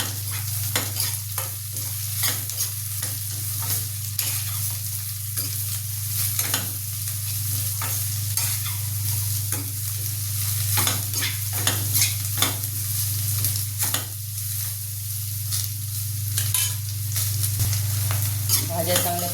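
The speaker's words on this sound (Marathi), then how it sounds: "कांदा भाजल्यानंतर ह्यामध्ये पत्तागोबी, गाजर आणि फुलगोबी सर्व साहित्य टाकून परत चांगलं शिजवून घ्यायचं." Cabbage, carrot and cauliflower stir-fried with onion in a pan, a steady close sizzle with frequent scraping and stirring clatter throughout, no voices.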